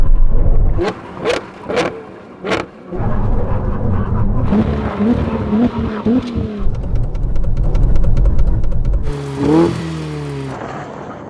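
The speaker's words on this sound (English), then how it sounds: "now we have a brake test from 100 miles an hour" A Ferrari Purosangue, 812, SF90 and 296 GTB in a brake test from 100 mph: loud engines roar and rev, then fade as the cars slow, with a rushing burst near the end.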